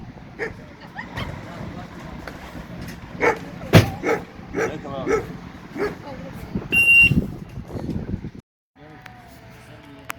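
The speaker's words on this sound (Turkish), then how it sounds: "Şu anda iki üç tane köpek var burada." Street dogs bark and yip in short bursts, close by, mixed with people talking; a brief high electronic tone sounds partway through.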